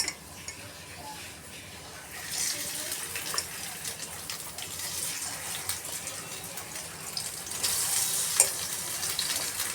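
Fish pieces frying one by one in hot oil, a steady broadband sizzle that swells louder partway through, with faint stirring clicks and no talking.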